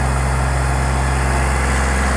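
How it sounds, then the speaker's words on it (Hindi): A Sonalika 35 top-model tractor engine runs at a steady idle, giving a loud, continuous low drone with no talking over it. "35 तो बढ़िया ट्रैक्टर है"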